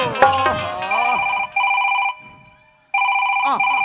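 A mobile phone ringtone plays in sustained bursts with short gaps, fairly loud and close, after a brief stretch of talking at the start.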